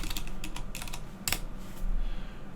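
Quick bursts of keystrokes on a computer keyboard as a command is typed into a MicroK8s terminal, close and crisp with a louder clack partway through, no talk.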